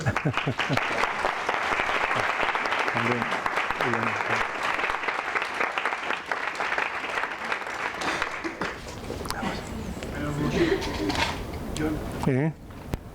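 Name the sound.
audience applause at a congress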